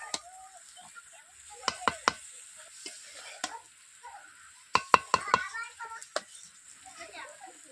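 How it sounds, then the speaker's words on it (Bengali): Jackfruit (echor) being stir-fried in a pan, with sharp, repeated clacks of a spatula against the pan in irregular bursts over a faint sizzle, while a voice talks in between. "এঁচোড়টাকে আমি 4 থেকে 5 মিনিট এইভাবে ভালোভাবে কষিয়ে নিচ্ছি।"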